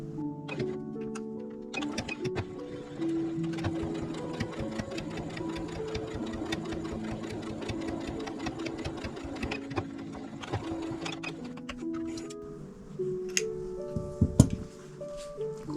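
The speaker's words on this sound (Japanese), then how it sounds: "こちらも同じように縫っていきます。" A sewing machine runs in a fast, steady rattling stitch for most of the time, with short pauses and some clicks near the end, as fabric is sewn for a small cloth box.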